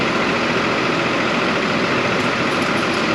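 Engine of an 830 tractor running steadily as the tractor is lowered during a full oil change, a loud, even low rumble with a constant throb and no pauses or voices.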